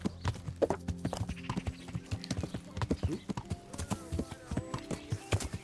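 Horse hooves clip-clopping in the medieval video game Kingdom Come: Deliverance, a steady run of close, sharp beats with brief pauses and a possible whinny, under someone talking and game music.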